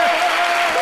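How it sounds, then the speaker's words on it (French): Audience applause at a French midday show, a brief dense burst of clapping heard loud and close, with a steady tone running underneath. "On va l'applaudir très très fort."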